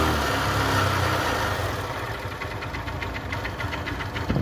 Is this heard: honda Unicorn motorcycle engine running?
yes